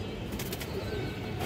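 Soft, low cooing from the female of a Bagha pigeon pair, faint and steady against a muffled background hum.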